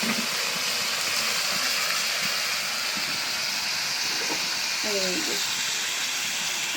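Thin potato slices frying with cabbage in a pan give a steady, close hiss and sizzle throughout, with a faint voice briefly audible partway through.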